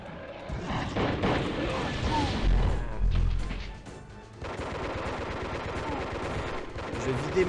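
Weapons emptied in the shooter Disruptor, with loud, rapid gunshot volleys and heavy impact booms filling the scene while someone talks over the shooting.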